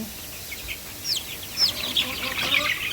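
Small hill-breed chicks peep and chirp in a cluster of high, thin calls over a soft background, growing busier toward the end.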